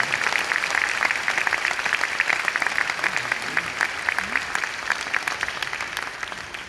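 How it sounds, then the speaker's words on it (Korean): Sustained applause from a large audience at a Christian business conference gathering in Busan, dense steady clapping throughout with a faint voice underneath. "한 번 더 큰 박수로 축복하겠습니다"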